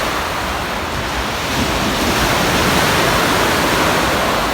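Sea waves on the Mersin shore make a loud, continuous roaring wash of surf with wind, steady throughout and up close.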